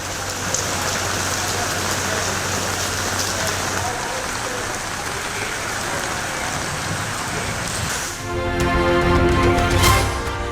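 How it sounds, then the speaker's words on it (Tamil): Steady rain falls over Chennai and its suburbs in the evening, a dense, even hiss throughout that grows slightly louder and rougher near the end. "மழை பெய்திருப்பதால் குளிர்ச்சியான சூழல்"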